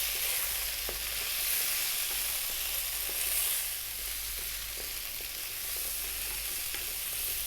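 Curry spice powders sizzle and fry in a hot pan while being stirred continuously, a steady crackling hiss with faint scraping taps, fairly quiet and with no voices.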